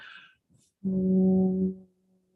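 A person's voice imitates a foghorn with a single low, steady, droning blast lasting about a second, preceded by brief faint sounds.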